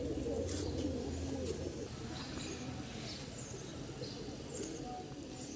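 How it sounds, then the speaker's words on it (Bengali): Pigeons of an expensive fancy breed coo repeatedly in a loft, with soft overlapping calls and light chirps under faint background noise. "আপনারা দেখছেন এগুলো খুব দামি কবুতর"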